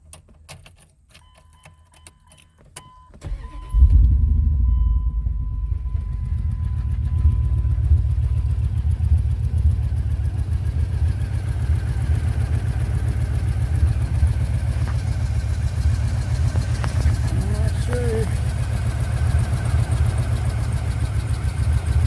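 A few clicks, then a truck engine with new spark plugs and a low-idle stalling fault cranks and catches, settling into a loud, steady low rumble that idles on without stopping.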